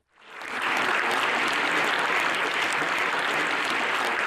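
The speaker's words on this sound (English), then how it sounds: "our panelists, Carole, Karin, and Javier, with a round of applause" Applause from a conference audience for the panelists of a round table on medieval Jewish heritage, swelling quickly from silence into a full, steady roar of many clapping hands that holds at constant loudness.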